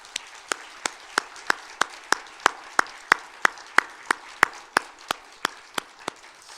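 Slow, evenly spaced hand claps in a church service, about three per second, crisp and moderately close, continuing steadily with no voices.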